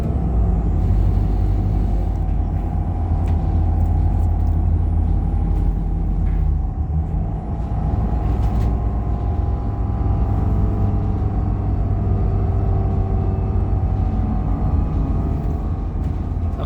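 A TransBunbury Route 844 bus from Millbridge to Bunbury drives slowly along a winding route, its engine giving a steady low interior rumble with faint rattles and no talk.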